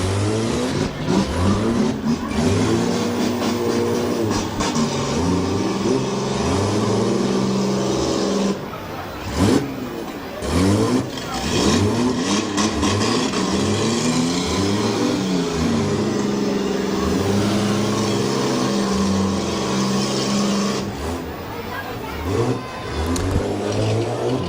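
A mini car class engine in a Portage County derby race restarts after a momentary stall and revs hard, with loud, rising and falling roars that stay close and fill the clip throughout, with only brief dips between revs.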